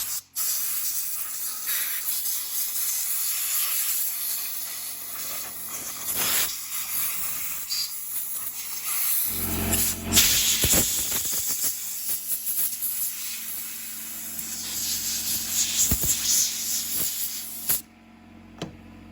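Compressed air blasting dirt from around the clutch, chain tensioner and oiler of an Echo CS-7310P chainsaw: a long hissing spray in repeated bursts, louder and rougher midway, with clattering handling noises between.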